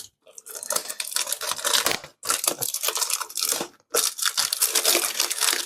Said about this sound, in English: Actually, let's just rip the cellophane off.